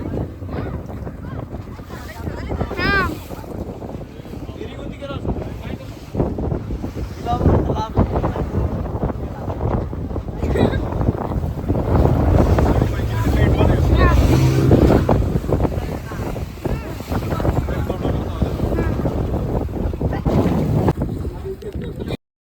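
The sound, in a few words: boat ride at sea off Malpe beach, wind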